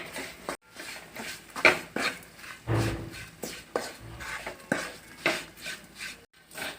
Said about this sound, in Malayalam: ഇനി നമുക്ക് ഇളക്കി ആ പൊടിയുടെ പച്ചമണം ഒന്ന് മാറി വരുന്നത് വരെ ഇളക്കി കൊടുക്കാം